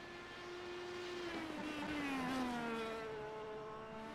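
Race cars doing fast laps in iRacing during a Formula Touring Series league race, a steady high engine whine with gliding pitch shifts as the cars shift and pass, continuous and fairly loud with no talk.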